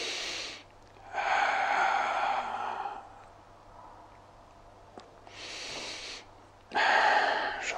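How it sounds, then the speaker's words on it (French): During a pilates rotation on TRX straps, a person gives several forceful, exaggerated exhalations, long airy breaths through the mouth separated by short quiet pauses, close up with no talking. "J'exagère bien l'expiration."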